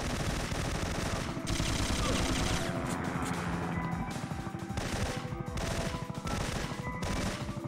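Sustained automatic assault rifle fire in a shooter video game, dense rapid bursts over a loud continuous game mix with music-like tonal layers, with no clear pauses.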